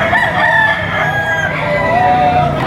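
A white Kelso gamecock rooster gives one long, loud, close crow that holds for the whole stretch at a cockfighting venue in Padre Garcia, Batangas, with crowd noise faint in the background.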